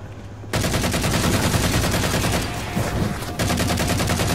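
Dense, continuous automatic gunfire from the video game Halo 4 during a 1v1 match, loud and rapid with a brief dip in intensity midway before the firing surges again; no talking.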